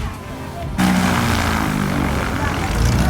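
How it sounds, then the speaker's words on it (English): Small propeller plane engine roaring up loudly and steadily after a quieter start, a close, continuous drone filling the rest of the moment in Panama. "we are now getting on this tiny little plane"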